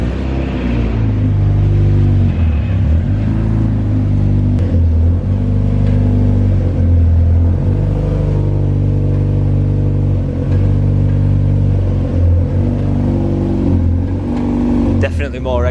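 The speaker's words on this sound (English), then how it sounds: "Definitely more exhaust noise coming from here." A MK2 Mazda MX-5 with a freshly replaced clutch rumbles loudly nearby as it rolls off a ramp at midnight, its engine revving in several swelling surges over a deep, continuous exhaust drone.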